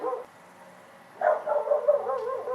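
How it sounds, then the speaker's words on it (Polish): A dog barks outside a window in a few quick yips and barks, somewhat muffled and moderately close, after a brief voice at the start. "Przepraszam Was za psa za oknem."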